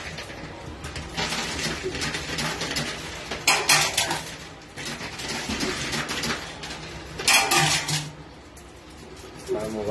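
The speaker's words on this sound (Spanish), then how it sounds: "ahí se escuchan los premios cuando caen" Prizes and coins tumble in an arcade cascade coin pusher machine, making bursts of metallic clattering and jingling over a busy background hum, with two louder surges of falling pieces.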